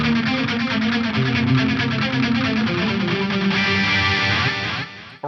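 Electric guitar through an Axe-Fx III live preset, a multi-tap lead delay layered with a rhythmic delay block, playing a dense, sustained chorus-and-distortion-tinged line whose repeats pulse in time before cutting off sharply at the end.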